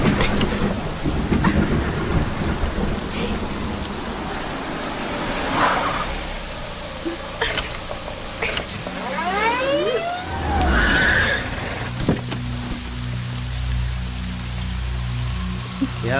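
Heavy rain pouring down during a thunderstorm around a car that won't start: a constant dense hiss of rain with rumbles of thunder, plus whistling, tonal sweeps and low hums layered through the middle.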